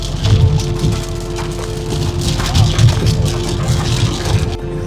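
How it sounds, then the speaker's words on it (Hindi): Rain drums on a Skoda Slavia during a long highway drive, a dense steady patter over the low road and engine hum inside the cabin, with no talking. "बाकी बारिश का आनंद उठा रहे हैं"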